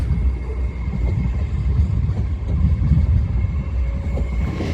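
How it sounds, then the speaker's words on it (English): An LNER Azuma train bound for London King's Cross pulls out of Doncaster station with a steady low rumble of wheels and motors. The sound is continuous and fairly close, and no one speaks. "off goes the 1359 LNER Azuma service to London King's Cross from York"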